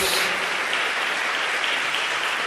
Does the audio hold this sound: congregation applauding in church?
yes